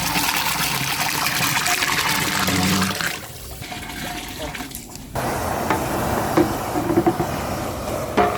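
A large quantity of water pours and gushes into a big pot for a jackfruit biryani cooked outdoors for a community meal, a steady rushing stream that briefly drops off and resumes with splashes.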